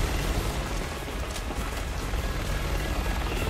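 A helicopter in the video game Resident Evil 6 makes a steady, loud rotor roar and engine wash that fills the whole stretch without a break.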